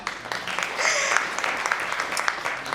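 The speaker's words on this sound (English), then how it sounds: "We should put a clap together for that" Audience applause at a keynote at the AGSA Conference 2025, a steady wash of clapping from a crowd that holds level for the whole stretch, with a faint voice briefly audible over it.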